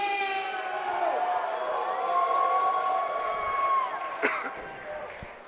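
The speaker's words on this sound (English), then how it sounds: "Ladies and gentlemen, let's give a big round of applause" A crowd roars and cheers at an MMA event as a fighter is introduced, a sustained loud wash of whoops and shouting with a tonal horn-like drone running underneath, then a sharp slam near the end.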